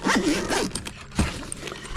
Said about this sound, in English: something like this, zip it up